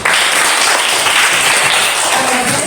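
Classroom students clapping together for a classmate, a short burst of dense, close applause filling the room throughout.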